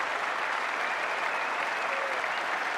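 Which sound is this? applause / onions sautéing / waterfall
applause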